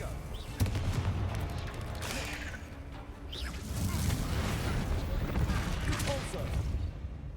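Confringo fire spell blasts cast in Hogwarts Legacy, a rapid series of loud fiery bursts and whooshes over a rumbling battle, continuing throughout.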